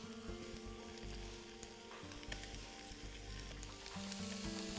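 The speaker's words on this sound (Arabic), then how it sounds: "نجيب هنا قطع الفراخ، ننزلها الأول وبس نمتص الحرارة شوية هنا." Chicken pieces for a tagine with white beans, seared in a hot pot, give off a steady, fairly quiet sizzle with faint crackles and an occasional scrape, without any talk.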